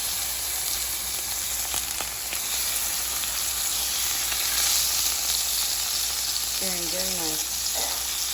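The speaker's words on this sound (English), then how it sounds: "So our pork is searing up very nice, very sizzly." Pork tenderloin sears in a hot pan, giving a constant bright sizzle with faint crackles, and a voice comments briefly near the end.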